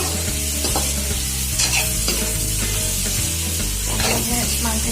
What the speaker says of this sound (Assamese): লৰাই লৰাই এনেকৈ ভাজি থাকিব অলপ টাইম